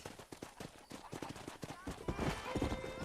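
Horse hooves clip-clop in steady, quick rhythm in the Red Dead Redemption video game, close and clear, growing louder and denser toward the end amid other game sounds.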